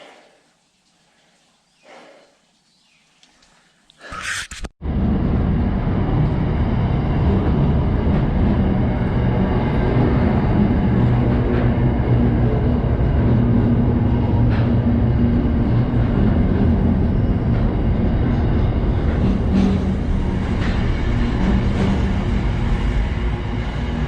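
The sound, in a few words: freight train rolling through a train station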